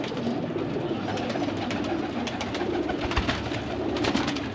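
Pigeons cooing softly amid a dense, busy background hum, the low calls blending into steady ambient noise, no talking.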